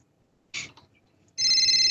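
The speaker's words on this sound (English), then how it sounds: "That phone's ringing." A phone rings during a call-in boxing interview, starting with a brief electronic chirp, then after a pause a sustained, bright ringtone that stays loud to the end.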